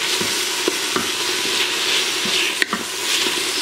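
Beef stew ingredients get stirred in an Instant Pot, a continuous sizzling hiss broken by a few soft scrapes and taps of a spoon against the pot, close and fairly loud.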